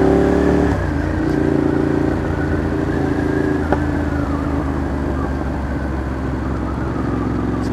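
Four-wheeled Triumph motor vehicle passing on the road, heard from a motorcycle as a loud steady engine drone with wind noise, a brief shift early on, no clear pass-by peak.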